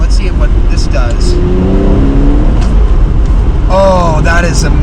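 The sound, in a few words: Porsche Boxster S Black Edition engine taking a turn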